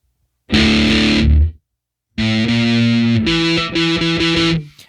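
Heavily distorted electric guitar with high drive, gain and effects plays a short sustained chord, stops, then returns with several choppy palm-muted hits, loud and close.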